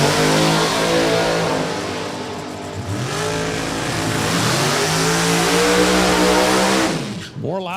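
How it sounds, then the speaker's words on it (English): A drag racing car at New England Dragway during an NHRA event revs and accelerates hard, its loud engine note climbing and sweeping in pitch before cutting off sharply near the end. "More loud cars. We got a lot of loud cars."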